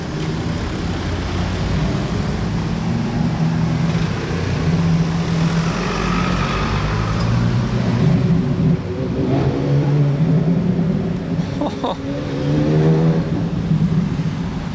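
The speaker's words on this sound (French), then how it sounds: "Et là j'entends un truc descendre, un V10, je crois que c'est une Carrera GT." A black Porsche Carrera GT with its V10 drives by, a broad engine roar swelling and revving across the stretch, heard from a distance outdoors without talk.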